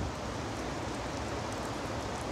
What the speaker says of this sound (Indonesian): Madinah atau Masjid Nabawi diguyur hujan.